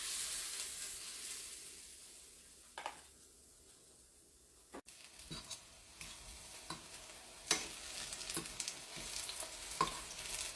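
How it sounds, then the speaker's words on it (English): Spoonfuls of Jamaican banana fritter batter fry in hot oil, a soft hiss broken by a few scattered bursts of sizzle and utensil clicks, quiet and close with no voices. "So we just have to spoon out the batter now and fry it."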